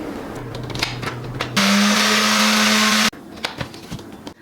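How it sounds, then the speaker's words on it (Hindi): An electric grinder crushing homemade tooth powder ingredients whirs loudly and steadily for about a second and a half, with quieter clattering handling sounds before and after. "अब हम इन सब चीज़ों को ग्राइंड कर लेते हैं।"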